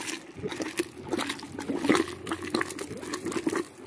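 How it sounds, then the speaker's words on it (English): Water beginning to boil in an electric PVC bluing tank held near 202 degrees, a steady bubbling, gurgling churn with soft pops, moderately close and fairly quiet. "So we're at 202 and we're already starting to boil off."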